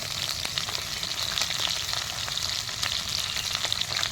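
Garlic, ginger and chilli paste fries steadily in hot oil for a crab sour dish, giving a dense, even sizzle with faint scraping from stirring throughout.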